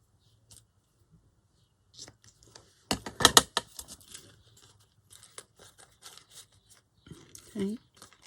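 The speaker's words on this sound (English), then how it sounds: "Scrunch it up a bit before I cut it off." Paper for a handmade tag is scrunched up in a short, close burst of crinkling and crunching, with fainter rustles and handling noises scattered before and after.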